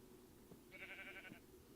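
A single faint sheep bleat from the video game Minecraft, lasting about half a second, heard under a low background hum.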